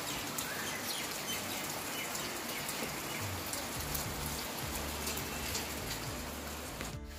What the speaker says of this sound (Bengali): একদম সুন্দর বৃষ্টি পড়ছে।